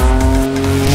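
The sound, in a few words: Renault Twin'Run V6 3.5 litre car driving, tires squealing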